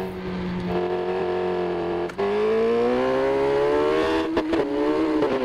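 Engine roar of a Yamaha YZF R6 motorcycle in the TT Isle of Man racing game, a loud, continuous howl that climbs steadily in pitch with a brief gear-shift dip midway.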